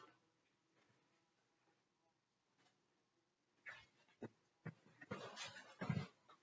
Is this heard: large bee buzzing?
yes